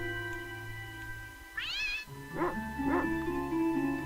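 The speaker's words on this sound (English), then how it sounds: "Dog chases cat, yep." In the Secret of Evermore video game a cat gives a clear rising meow, followed by two short dog-like barks or yelps, all set over a droning game music background.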